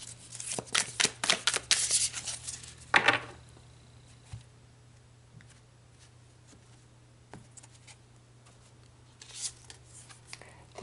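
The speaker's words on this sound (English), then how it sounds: "So let's pull some more cards" Tarot cards are shuffled and pulled from a deck in a quick flurry of close papery riffles and snaps, followed by a long hush with a few faint soft slides and taps.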